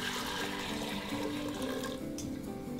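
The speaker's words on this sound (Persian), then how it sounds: "این آبگوشت رو برمیگردونم تو ظرفی خودش" Meat broth poured back into its own pot while making Isfahan beryoon, a steady liquid pour with a continuous splashing trickle throughout, close and fairly quiet, with no talking.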